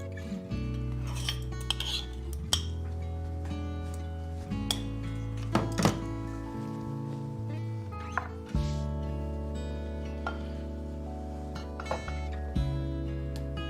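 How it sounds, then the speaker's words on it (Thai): Dishes being washed at a home sink, with steady clinks and thunks of plates, pots and cutlery over a continuous low rumble of running water, close and fairly loud throughout. "ท็อปจะล้างจาน"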